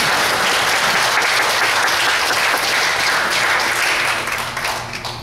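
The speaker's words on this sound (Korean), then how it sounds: "박수 치셔도 됩니다" A church congregation applauding, a dense, loud wash of many hands clapping together indoors that holds steady and then fades toward the end.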